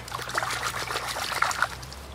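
Water trickles and splashes steadily while a freshly cleaned river trout is rinsed outdoors, a close, continuous liquid dribble with small irregular spatters and no talk.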